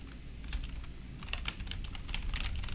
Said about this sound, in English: Let me just type these out here.